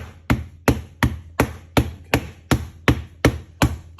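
Steady, evenly spaced wooden thuds, about ten knocks of a rolling pin tapping a firm block of butter, close and fairly loud with no talking.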